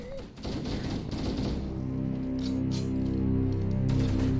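Gunfire in Halo: Combat Evolved, a brief burst of shots at the start followed by a droning hum and game sounds, with a voice briefly present.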